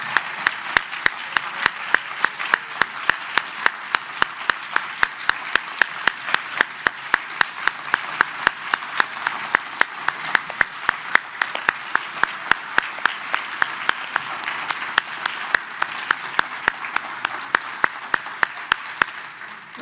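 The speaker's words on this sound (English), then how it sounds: "Let's give them all a round of applause." Sustained audience applause at a National Association of Social Workers award ceremony honoring award recipients, dense and steady for about twenty seconds with no talk over it.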